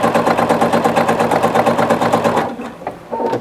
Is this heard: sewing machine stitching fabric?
yes